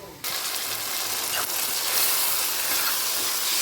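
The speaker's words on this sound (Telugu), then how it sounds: "చిన్నగా కోసి పెట్టుకున్న టమాటాలను కూడా వేసేసుకుంటున్నాను నేను" Chopped tomatoes tipped into onions frying in a pan, setting off a loud broad sizzle that jumps in abruptly and holds steady and close, with a brief clatter partway through.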